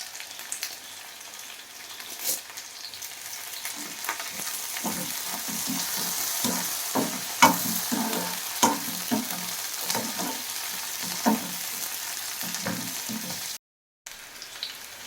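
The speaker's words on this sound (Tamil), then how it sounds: "வெங்காயத்தையும் போட்டு ரொம்ப கறிக்கிடக்கூடாது" Garlic and onions fry and are stirred in a pan for Sankara fish curry, with soft sizzling under repeated scraping stir strokes, close and fairly quiet.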